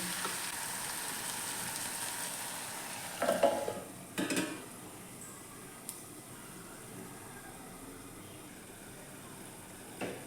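Tomato gravy for a sweet-and-spicy bitter gourd gojju cooks in a covered pan with a steady, soft sizzle and hiss throughout, broken by a couple of brief louder clatters near the middle.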